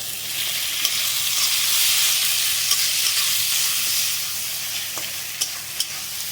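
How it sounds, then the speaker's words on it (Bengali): Spice paste for mutton curry fries loudly in a pan, a strong continuous hiss of sizzling oil punctuated by a few sharp clicks and taps of stirring. "দেখো খুব সুন্দর ভাজা হয়ে গেছে মশলাটা"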